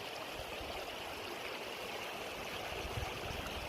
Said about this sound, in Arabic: سائلها الماء جاري طول السنة